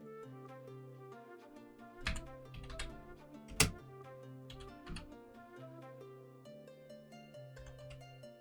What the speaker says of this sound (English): No, I'm typing in your damage.